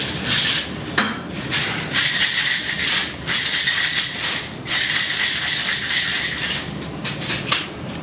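A cocktail shaker holding a chilled espresso martini rattles hard in bursts of rapid ice clatter, loud and close, with brief pauses between shakes.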